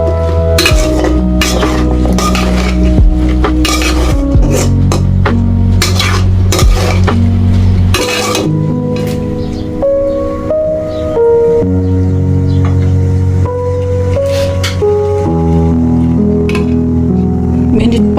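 Shing fish curry with green banana being stir-fried in a pan over low heat: loud, busy metallic clanks and scrapes of a utensil against the pan, dense at first and then thinning, with a clattery ringing tone throughout.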